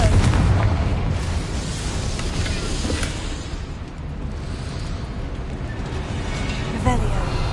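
Confringo blasting spell in Hogwarts Legacy, a dense rumbling explosion opening loud and settling into a sustained crackling roar with scattered pops, a voice speaking over it.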